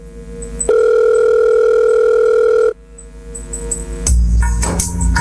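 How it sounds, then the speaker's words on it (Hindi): A steady telephone dial tone sounds loud and alone for about two seconds during a phone call in a staged skit at a school annual function, then stops and gives way to muffled background noise and clatter. "अभी फोन करके पूछती हूँ कि ठीक ठाक घर पहुँच गया"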